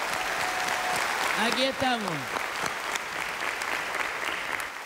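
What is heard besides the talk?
applause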